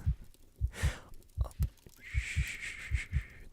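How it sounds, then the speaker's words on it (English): A steady, pulsing heartbeat in a vampire roleplay, with soft low thumps in a regular double rhythm, close and intimate. A breathy hiss rises beneath the beats partway through. "I can hear your heart beating all the way here"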